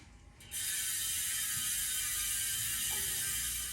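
Rear bicycle freehub ratchet on an Ozark Trail FS 2 Slalom wheel, a fast, steady whirring buzz of clicks as the wheel is spun, close and continuous after a brief start.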